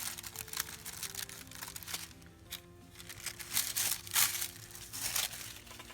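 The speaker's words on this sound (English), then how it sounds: "I'm going to go ahead and rip around here. So ripping around this little Santa." Sheets of paper tear and crinkle in a continuous run of short rips around a small Santa cutout, close and fairly quiet, with no talking.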